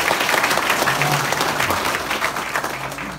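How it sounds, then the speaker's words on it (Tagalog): Applause from a crowd at a company head office event, a loud, close burst of clapping lasting about three seconds with faint voices mixed in. "Yan, yan ba palakpak nyo?"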